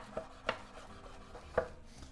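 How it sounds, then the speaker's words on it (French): Fresh coriander being finely cut with a knife on a board, a handful of soft, uneven chops with quiet rubbing between them, faint and close with no talking. "la coriandre ça va très bien avec les samosas. Donc comme toujours, on va venir la couper"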